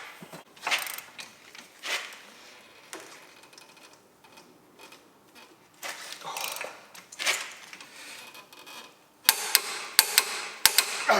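Tightening a CV joint nut on a 2007 Honda CR-V during a CV boot and joint replacement, with the brake disc blocked from turning: scattered metallic clanks and ratcheting taps, then a few sharp louder knocks near the end.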